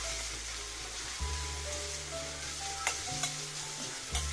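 Vegetables sautéing in a pan for white sauce pasta give a steady, close sizzle, with a few sharp clicks and scrapes from stirring scattered through it. No one speaks.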